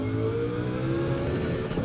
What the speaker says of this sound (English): Listen to that V12 sing.